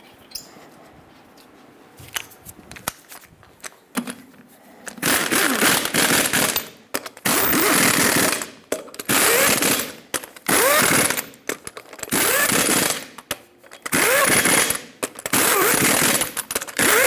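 An impact wrench torques the lug nuts on a Ford E-350 Super Duty front wheel in a cross pattern, delivering a series of loud, close rattling bursts, each lasting about a second, separated by short pauses after quieter handling noises.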